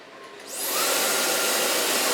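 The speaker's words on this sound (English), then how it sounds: "Take my T.K.S blow dryer." A T.K.S blow dryer switches on during a salon cut and color, rising quickly into a loud, steady broadband whoosh of airflow that holds close and constant without talk.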